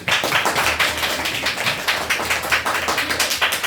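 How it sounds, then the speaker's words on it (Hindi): Schoolchildren in a Class 10 maths lesson clap together in quick, rhythmic bursts, close and fairly loud, with a slightly uneven group beat running throughout. "ताली बजाओ उसके लिए"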